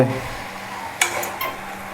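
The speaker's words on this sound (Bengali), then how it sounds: "এই মশলাটার সঙ্গে কাঁঠালটা ভালোভাবে মিক্সড করব মিক্সড করে কিছুক্ষণ এটারে কষাবো" Jackfruit and spices are stirred in a pan over a low gas flame, with a soft sizzle under scraping spoon strokes and a couple of sharper clinks against the pan.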